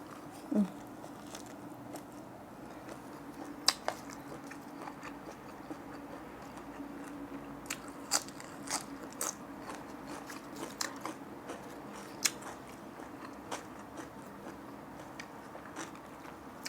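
Someone eating spicy fermented pork salad (yam naem), with faint, scattered crunchy bites and chewing clicks over a low steady background hum.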